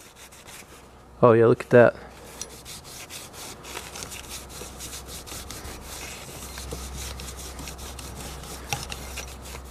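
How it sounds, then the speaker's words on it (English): An old Century repulsion-start induction electric motor part, gummed with varnish-like residue, is rubbed down with a rag and brake cleaner, giving a steady, close scrubbing rasp throughout, with a short burst of speech near the start. "I'm going to rub that down first with just a rag and brake cleaner"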